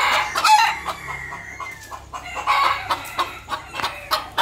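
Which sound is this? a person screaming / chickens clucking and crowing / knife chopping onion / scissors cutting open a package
chickens clucking and crowing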